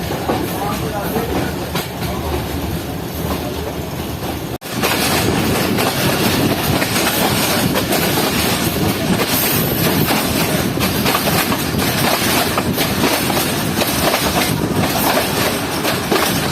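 A train rolls along steadily toward Sialkot in the rain, with a loud, continuous rumble and rattle of the carriages and a sharp change in the noise a few seconds in; no one speaks.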